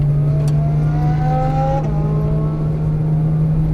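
A Porsche Turbo S accelerates on a track, its engine pitch sweeping upward in a strong, continuous near roar with a steady drone underneath and no talk over it.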